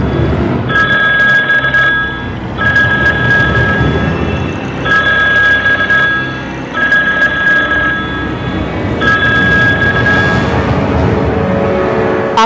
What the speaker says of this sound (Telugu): నా గర్ల్ ఫ్రెండ్ నిస్సా కాల్ చేసింది